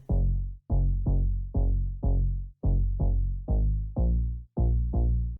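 A deep house drop in FL Studio layers a sub bass with a filtered mid-range synth bass. Loud, punchy bass notes repeat in a steady rhythm with brief gaps and no voices.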